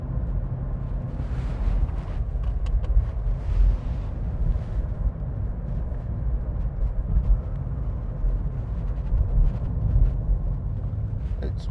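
2019 SEAT Mii 1.0 12v five-door cruising at 40 mph in fifth gear under 2,000 rpm, a steady low engine drone with road and wind rumble heard from inside the cabin, no speech.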